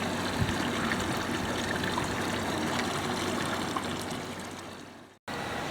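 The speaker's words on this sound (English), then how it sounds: "I like to hear the sound of the water in the garden." Water trickles steadily into a garden fish pond, making a continuous close splashing, then cuts out abruptly near the end.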